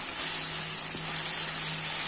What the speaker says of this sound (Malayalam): ഈ നല്ല ചെറിയ തീയിലിട്ട് പിന്നെ പച്ചമണം മാറുന്നവരെ വഴറ്റിയെടുക്കാം